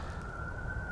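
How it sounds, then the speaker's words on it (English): A siren holds a steady wailing tone, continuous and fairly loud, over low rumbling background noise, with no voices over it. "oh my God, these sirens. I think the sirens are important."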